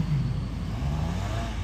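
At an autocross event a car engine drones in a low, steady growl, fairly close and continuous for a brief moment with no voices.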